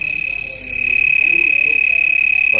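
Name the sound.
Master Cool refrigerant leak tester alarm detecting a leak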